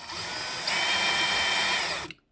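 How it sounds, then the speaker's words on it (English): A power drill whirs steadily for about two seconds, drilling a pilot hole to mount a cabinet touch latch, pitch rising slightly as it bites, then spins down and stops abruptly. "your power tool or whatever you're using to put a little pilot hole in there"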